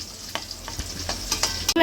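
Jackfruit pieces returned to a pan of sizzling masala, with a steady frying hiss broken by several sharp stirring scrapes and clinks, close and fairly loud, with no talking.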